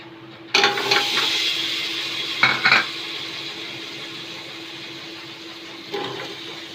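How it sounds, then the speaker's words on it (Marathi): Raw jackfruit pieces are stirred and sautéed in oil, with a soft continuous sizzle and three distinct bursts of a spoon scraping and clattering against the pan, the first two close together and the third fainter. "हे गरे आपल्याला तेलावरती 2 ते 3 मिनिटं छान असे परतून घ्यायचे आहेत।"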